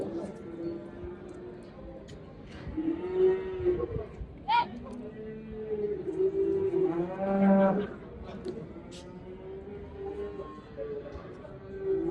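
At a livestock market, a red cow with her calf lets out repeated deep, drawn-out lows at fairly close range, with people talking in the background between the calls.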